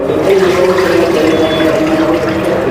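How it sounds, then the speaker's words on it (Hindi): Roughly two glasses of water poured into kadhi batter for kadhi pakora, a steady close splashing and gushing that continues loud throughout without a break. "और मज़ीद इसमें पानी ऐड करेंगे हम 2 गिलास के करीब।"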